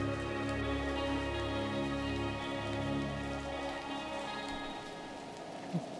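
Rain in the video game Desperados: Wanted Dead or Alive, a continuous soft hiss of falling drops under sustained tonal music, fairly quiet throughout.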